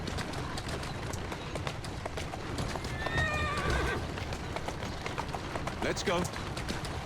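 Horse hooves clip-clop at a steady walking rhythm in the video game Assassin's Creed Syndicate, with a whinny partway through and a short spoken line over the footfalls.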